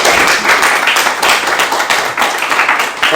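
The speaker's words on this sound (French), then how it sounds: "on peut applaudir quand même" A church congregation breaks into sustained applause, dense overlapping hand claps filling the room at steady loudness with no talk above it.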